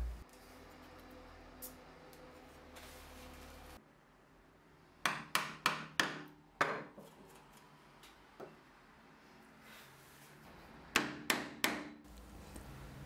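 Wooden mallet striking a chisel while cutting a hand-made dovetail joint in a board: sharp, close knocks in quick clusters of three to four blows, separated by quieter pauses.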